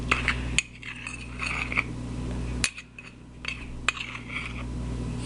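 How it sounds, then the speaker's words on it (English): A spoon stirs cocoa powder and other chocolate mug-cake ingredients in a mug, making close scraping and clinking against the ceramic with a few sharper taps, and no one speaks. "Now I'm just going to mix them together."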